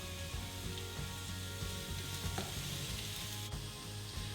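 Onion with salt frying in a pan, a steady close sizzle and crackle with a few faint stirring scrapes, continuous and unbroken with no talk.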